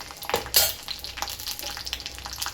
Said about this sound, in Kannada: ಇಲ್ಲಿ ಮೆಣಸಿನ್ಕಾಯಿನೂ ಹುರಿತಾ ಇದ್ದೀನಿ.